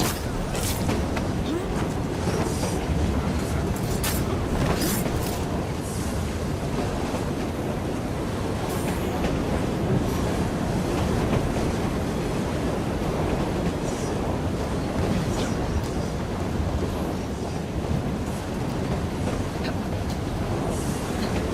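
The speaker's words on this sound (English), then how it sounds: "We'll be on our way as soon as the train slows, miss." A train moves along in the video game Assassin's Creed Syndicate, making a constant loud rumble and rattle with gusty wind-like noise throughout, and muffled voices now and then.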